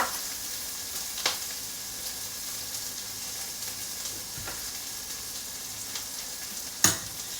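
Chopped ingredients for a chicken and bacon omelette sizzle steadily in a frying pan, a soft, continuous crackle close by, broken by a few light clicks and taps of the pan and utensils.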